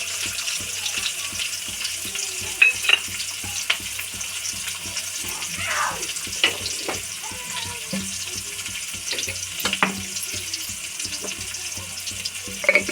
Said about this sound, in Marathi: आता कांदा परतून घ्यायचं लाल करायचा